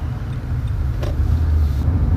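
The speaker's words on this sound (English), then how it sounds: "I'm driving a Nissan Altima" A Nissan Altima being driven, with a steady low road and engine rumble and broadband cabin noise that holds constant throughout.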